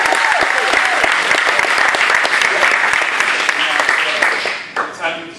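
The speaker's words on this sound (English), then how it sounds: "Round of applause." Dense audience applause fills an indoor startup weekend event in New Orleans, steady clapping that tapers off in the final second with a few stray claps.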